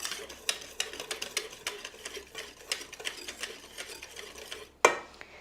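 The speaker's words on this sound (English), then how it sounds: "Now I'm going to just use my whisk and just sift those together." A whisk sifting dry sugar and a pinch of salt together in a bowl, giving a quick, regular run of light clicking taps, ending in one louder knock near the end.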